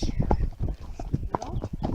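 Horse hooves clip-clop at an agricultural fair in France, a quick uneven run of close hoof strikes mixed with crowd chatter and people talking nearby.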